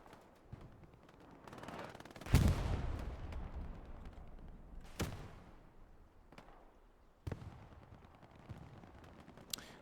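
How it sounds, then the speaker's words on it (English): Distant and mid-range gunfire and artillery booms in a large-scale Hell Let Loose battle on Omaha, with sharp isolated shots and heavier blasts scattered over a rumbling background, no talking. "Peaceful ambiance of hell let loose gunfights"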